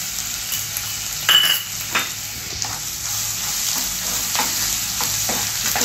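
Red chilli sizzling and being stirred in a hot pan while roasting for cutlet masala, a steady fry hiss with a few scraping stir strokes and light clinks of a utensil.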